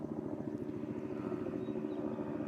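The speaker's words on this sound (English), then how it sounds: "it looks like we're going to be paying attention to the helicopter for a moment." Helicopter passing over an outdoor camp in North Dakota, a steady loud rotor and engine drone with low rhythmic thumping that holds constant throughout, no voices.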